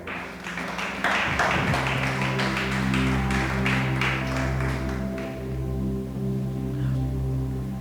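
A church congregation applauds, a steady wash of many hands clapping at moderate volume over sustained organ-like chords and background music.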